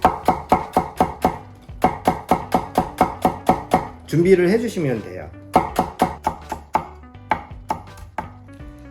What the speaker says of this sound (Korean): 요건 송송 썰어 주시면 되거든요.